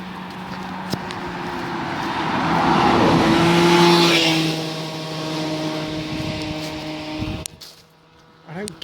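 A car overtaking on a country road, its engine drone swelling as it draws close and passes, then fading away, with a steady engine hum underneath and a short clunk near the end.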